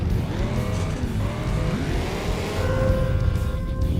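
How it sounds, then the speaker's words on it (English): A car engine in the Tough Trucks video game revs and drives continuously, a loud steady motor drone with shifting pitch and tire noise, no talking. "Finally got a car with actual speed."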